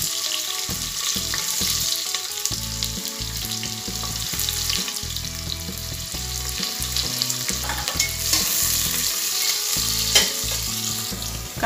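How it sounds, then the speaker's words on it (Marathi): Mustard seeds and onions frying in hot oil, with a dense continuous sizzle and crackle close up and steady throughout, plus intermittent stirring scrapes and no voices. "मोहरी छान तळायला लागली की त्यात आपण कांदे घालून घेणार आहोत"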